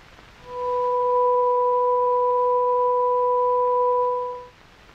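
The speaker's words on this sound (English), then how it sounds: "To this fundamental, we will now add the second harmonic." A steady electronic sine tone with an added second harmonic sounds as a clean, unwavering two-pitch hum that fades in smoothly, holds for about four seconds, then fades out, alone without any voice.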